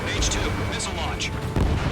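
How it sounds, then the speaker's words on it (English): A missile launches in Ace Combat 7 with a dense roaring whoosh and rumbling boom under continuous radio chatter, the rush swelling near the end. "H2, missile launch."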